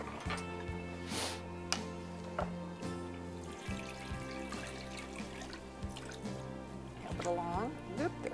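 Liquid is drained off while preparing rice pilaf with pomegranate and pine nuts, giving soft dripping and trickling sounds that sit under a steady humming background.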